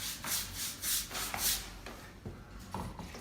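A cloth or applicator rubs wood stain across a freshly sanded wood floor in steady rhythmic strokes, a close swishing scrub that rises and falls with each pass, no talking.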